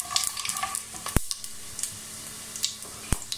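Whole spices fry briefly in hot oil: black cardamom, black pepper and cumin, along with a spice whose name is cut off. They give a faint steady sizzle broken by sharp clinks and scrapes of a spoon against the pot.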